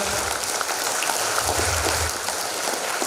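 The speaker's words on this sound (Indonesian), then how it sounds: "tepuk tangan yang meriah." A seminar audience at Ciloto Puncak keeps up brisk, lively applause, a continuous rain-like patter of many hands with no voices over it.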